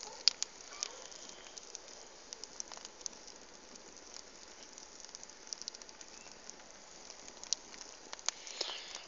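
Village campfire crackling softly outdoors, a faint steady hiss scattered with sharp irregular pops and snaps and no talking.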